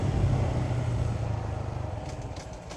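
A Honda Grom MSX125 motorcycle engine drones steadily at speed on the German Autobahn, with a low buzzing note and wind rush that fade slightly toward the end.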